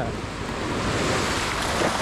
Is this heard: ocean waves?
yes